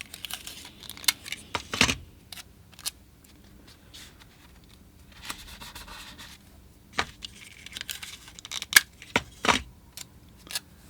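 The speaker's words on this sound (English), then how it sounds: "I'm just using some magic tape" Magic tape being pulled and torn to hold watercolour paper down, heard as a few short, sharp near rips and crinkles with quiet handling and pauses between them.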